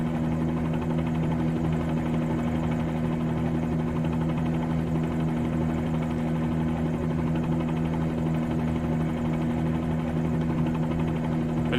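A Bell 47G helicopter's engine and rotor in a flight simulator game make a steady, loud droning hum with a constant buzzing tone throughout, with no break or change in level.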